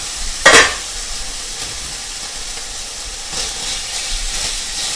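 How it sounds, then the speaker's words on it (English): Sausage sizzles and hisses in a frying pan, with a sharp scraping rattle as the pan is shaken near the start, then a quieter steady sizzle. "that sausage needs a little movement. So give that a little shake."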